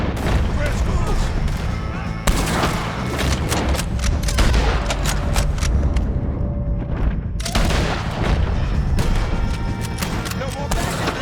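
Chaotic Red Dead Redemption 2 shootout against the Driscolls, with dense, continuous gunfire and booming shots layered over a steady din of action, close and loud throughout, while voices shout over the fighting.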